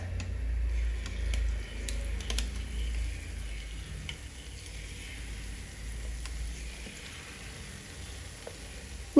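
Jalebi batter frying in hot oil, a soft continuous sizzle with faint scattered ticks and pops, close and quiet without talk.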